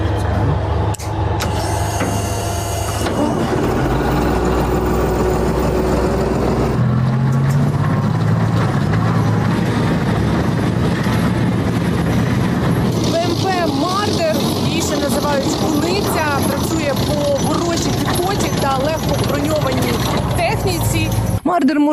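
A Marder tracked infantry fighting vehicle's engine running, a loud, continuous deep rumble with shifting mechanical whine, close by and steady throughout, while someone talks over it for most of the time.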